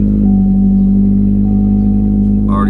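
Chevy Cruze 1.4L turbo engine idling smoothly just after a cold start with new MSD coils, a steady low drone with an even hum and a brief higher rattle near the end, close and loud.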